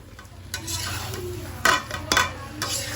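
Potatoes being stirred through sizzling spice masala in a pan for spicy Kashmiri aloo dum, a steady close frying hiss broken by a few louder scraping strokes of the spoon.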